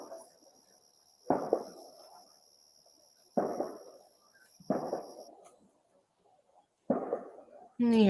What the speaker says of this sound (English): And you hearing all the fireworks going off.